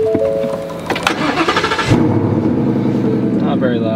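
A Roush Stage 3 Mustang cranks and fires on a cold start, the starter whir giving way to a loud catch and a steady throbbing idle from the factory Roush exhaust, close by.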